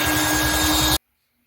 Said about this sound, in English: Now I'm going to go at it with a 60 grit belt sander